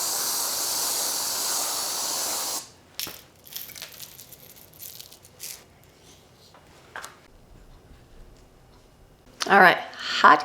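A Keurig coffee maker hissing loudly as it dispenses hot water for hot cocoa, steady for a few seconds and then cutting off, followed by quiet clinks, handling noises and brief talking.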